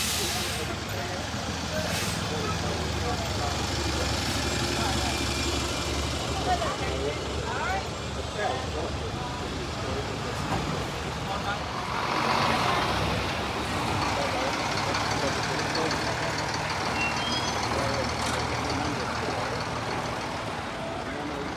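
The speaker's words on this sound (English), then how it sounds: "And here are the two Volvo B70Ls right next to each other." Two Volvo B7L buses idle side by side at the Bristol Bus Show 2025 terminal in Brislington, a steady, close diesel rumble with a brief swell midway, air-brake hiss and voices nearby.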